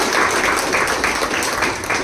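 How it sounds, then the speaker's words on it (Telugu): An audience at a teacher-exam coaching program applauds its teachers, a loud sustained wash of clapping from a crowd close by, steady throughout. "మనకు అన్ని విధాల సాయం చేసినటువంటి ఉపాధ్యాయులకు కూడా చప్పట్లు ఒకసారి"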